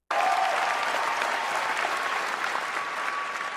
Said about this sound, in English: And now he's getting a lot of applause for that